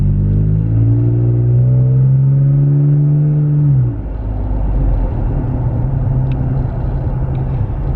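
Toyota Tacoma exhaust with a steady low drone while cruising at about 30 mph, held in gear; an engine note rises, then falls to an even rumble partway through, with no talk.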